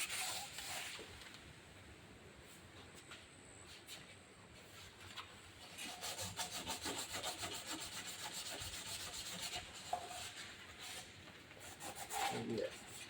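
Glossy black paint and primer are scuffed up by hand before Raptor coating, producing close, uneven rubbing and abrasive scratching strokes that come in bursts, louder in the second half.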